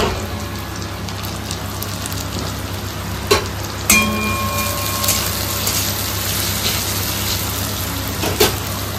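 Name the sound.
onion, garlic, tomato and chili frying together in a pan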